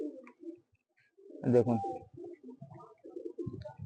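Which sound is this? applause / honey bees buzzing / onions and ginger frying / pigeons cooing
pigeons cooing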